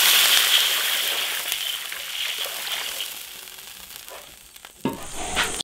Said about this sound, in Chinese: 煎好了加水，